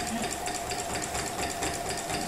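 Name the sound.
sewing machine free motion quilting in the ditch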